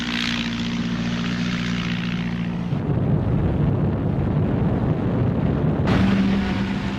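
Four hastily assembled Gladiator fighter biplanes in flight over Malta, steady propeller engine drone with low harmonic hum and broadband roar, swelling louder midway.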